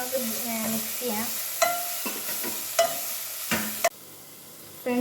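A utensil stirs noodle ingredients in hot oil in a pan, with steady sizzling, scraping strokes and clinks against the pan, and a voice briefly heard.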